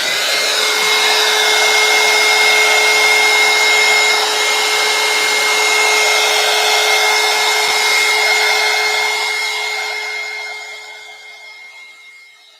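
A heat tool blows steadily to dry paint on a mixed media artwork, a loud, even fan whine with a steady hum that runs for about ten seconds, then fades and winds down at the end.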